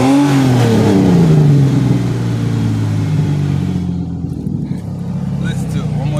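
A parked Dodge Magnum Mopar car engine revved loud and near, the pitch rising and falling over the first seconds, then settling into a rougher steady running rumble with faint clicks and no talking.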